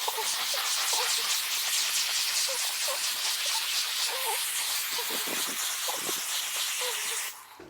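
A handheld steam cleaner hisses steadily as a microfiber cloth scrubs fabric, a broad continuous spray of noise with faint rubbing scuffs underneath, cutting off abruptly at the end.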